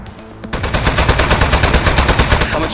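Rapid automatic gunfire from the video game Aperture Desk Job starts abruptly and keeps a steady, loud, close rhythm of rattling shots with no speech.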